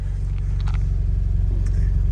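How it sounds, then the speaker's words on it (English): A Scion FR-S fitted with an Invidia Q300 catback exhaust idles close by, a steady, deep low rumble with a throbbing pulse running evenly through the whole stretch. "we have a NVIDIA Q300 catback exhaust system"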